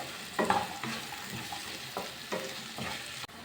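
Capsicum is stirred into masala frying on a low flame, a soft sizzle under rhythmic spoon scrapes that come every half second or so, close and fairly quiet.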